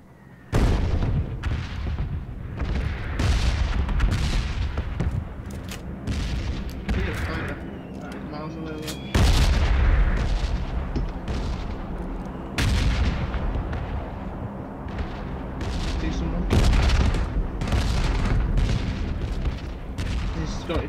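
In a PUBG gunfight video game, rapid bursts of gunfire crack and boom again and again at loud volume, with short gaps between the volleys.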